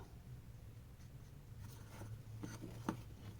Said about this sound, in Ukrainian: беру маркер, який добре пише, і малюю полоску